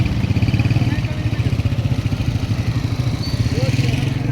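Motorcycle engines pass along a busy road, a steady rumbling drone with a chugging rhythm that stays fairly loud and close for the whole stretch.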